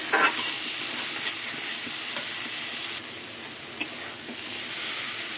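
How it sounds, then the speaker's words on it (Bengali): Spice masala sautéing in oil that has begun to separate, for an okra and potato curry, gives a continuous soft sizzle with a few scraping spoon strokes against the pan and no voices. "তো মশলা দিয়ে কষাতে কষাতে তেল ছেড়ে দিয়েছে"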